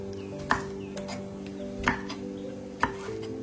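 A knife chops through meat in three separate, sharp strikes spaced about a second apart, each a crisp knock over a steady low hum in the background.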